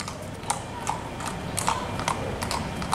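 A Moro horse schooled in an easy walking gait moves at a steady, continuous pace, hooves clip-clopping in an even rhythm of crisp, moderately close strikes over a quiet outdoor background.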